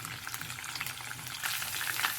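Oil crackles and spits steadily as chicken fries in a pan, a dense sizzle with sharp pops that grows louder partway through.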